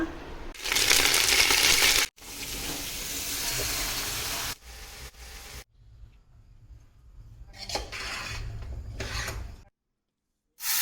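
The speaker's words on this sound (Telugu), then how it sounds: "తాలింపు వేసుకుందాం" Spices tempering in hot oil for a Ganesh Chaturthi prasadam of boiled chickpeas, giving loud bursts of crackling sizzle that stop and restart, with scraping stirs and a quiet gap in between.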